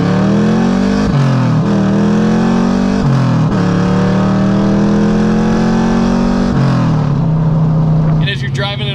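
A 420-horsepower Lincoln Town Car with an LQ9 V8 and LS6 intake runs loud and steady, its deep droning note stepping up and down in pitch several times throughout.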